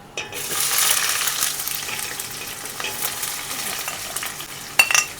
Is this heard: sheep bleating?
no